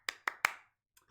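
Three sharp, close hand claps in quick succession, then a faint tap after a short pause.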